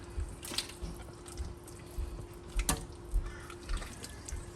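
Water being poured into a cooking pot holding leftover chicken curry in a home kitchen, heard as steady trickling and splashing with scattered drips and clinks at moderate volume.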